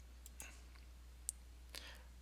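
Several faint, sharp computer mouse clicks sound in a quiet room, spaced irregularly over a low steady hum.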